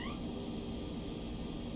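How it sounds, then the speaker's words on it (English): A pet dog cries and whines faintly in the background during a flight-simulator stream, its thin high whimpers rising briefly over a steady droning hum. "You can hear my dog crying in the background."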